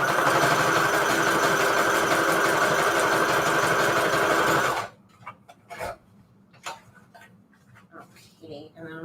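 A sewing machine stitches pockets for a junk journal made from Christmas book pages, whirring loudly and steadily for about five seconds before stopping, followed by quieter handling sounds and some talking.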